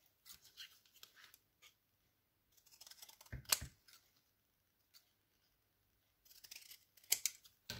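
Scissors cut paper with short, close snips and crunches in small clusters, separated by quiet pauses, with a few sharper clicks and rustles.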